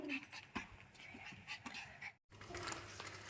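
A female dog whimpers softly and pants in quick, breathy bursts, close by, with a short silent break partway through.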